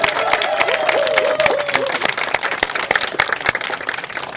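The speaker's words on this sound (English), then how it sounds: "can we all please give the governor a huge round of applause for his leadership" Audience applause for the governor at a bill signing on universal preschool, dense clapping mixed with crowd noise and a brief whistle-like tone early on, steady through the few seconds.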